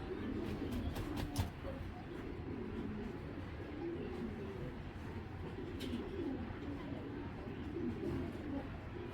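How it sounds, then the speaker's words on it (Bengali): Ringed racing pigeons coo softly and repeatedly over a low background hum, with faint sharp taps now and then. "অনেক সুন্দর একটা রিংয়ের কবুতর"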